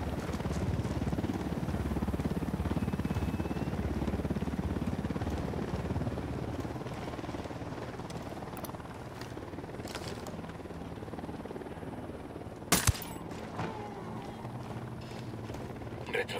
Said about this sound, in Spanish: Ojo, un helicóptero de la unidad.